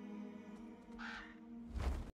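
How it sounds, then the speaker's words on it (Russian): A raven caws twice in an Apex Legends story scene, a harsh rasping call followed by a louder, lower one, heard over a sustained droning musical backdrop. "И это ворон."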